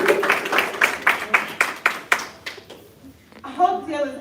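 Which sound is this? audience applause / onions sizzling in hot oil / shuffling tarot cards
audience applause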